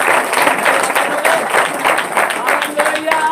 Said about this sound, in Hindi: ताली बजाकर प्रभु